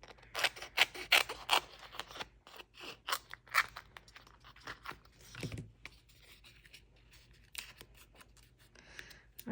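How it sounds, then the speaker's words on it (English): Scissors snip through paper in a quick series of crisp cuts, pausing now and then, close and fairly quiet. "My scissors here."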